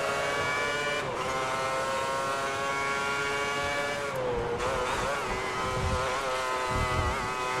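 Formula 1 car engines in the F1 2010 racing game at the 2010 German Grand Prix, a loud, sustained high-pitched whine with steady harmonics and brief gear-shift dips as the cars race past.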